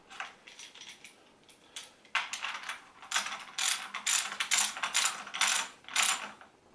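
Battery terminal connections in a home solar setup are hand-tightened with a ratcheting tool. Quick bursts of crisp clicking come in uneven runs, faint at first and then louder and denser toward the end, with no talk.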